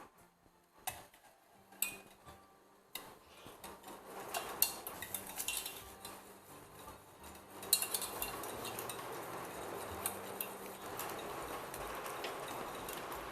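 A spoon stirs lemon cream thickened with cornstarch in a pot, scraping and clinking against the metal in an irregular, busy rhythm that keeps going through the whole stretch, close and fairly quiet.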